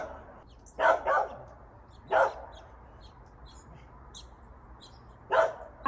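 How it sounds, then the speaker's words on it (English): A dog barks outdoors at middle distance: a quick double bark, a single bark a second later, then another lone bark after a pause, with faint bird chirps in the background. "Let's pray that this dog doesn't continue barking."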